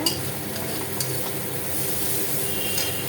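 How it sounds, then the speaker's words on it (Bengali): Masala spice paste frying and being stirred in a pan while cooking a fish dish, a steady close sizzle with scraping stirs throughout, no talking. "দেখো মশলাটা ফ্রাই হয়ে গেছে"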